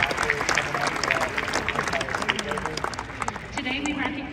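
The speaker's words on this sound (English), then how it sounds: "Graduates, please join us in applause as a tribute to the love and support of your parents," A University of Delaware graduation audience claps in a large venue, many hands applauding continuously while a voice speaks over a public address system.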